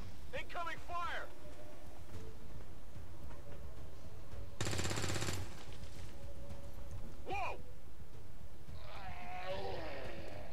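Incoming gunfire in XCOM 2 Long War of the Chosen: a short loud broadband volley midway, amid bleating-like voice calls and game ambience, with speech present.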